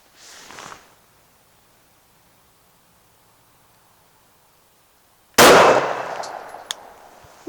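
A Glock 21 pistol fires Federal aluminum-cased full metal jacket rounds outdoors: one sharp, loud shot with a ringing decay and a metallic clink after, preceded by a faint rustle and long quiet.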